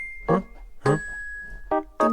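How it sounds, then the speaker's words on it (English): Wii piano plays a Christmas tune from a video game, four bright bell-like notes struck in an even rhythm, each ringing briefly before the next, clear and close with no talk. "play that Wii piano"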